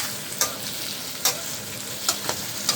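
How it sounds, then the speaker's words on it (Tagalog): Pork sautés with garlic, onion and ginger for Bicol Express: a soft frying hiss sits under a few sharp, spaced scrapes of a spatula against the pan, close and without talk. "Tangkot lang po natin itong konti ito sa bawang sibuyas at luya ng konti."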